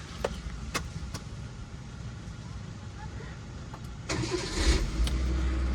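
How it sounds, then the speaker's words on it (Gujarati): A Swift car engine cranks and catches about two-thirds of the way in, settling into a close, low, steady idle rumble after a few quiet clicks and knocks. "ગાડી કરી નાખી આપણે સ્ટાર્ટ"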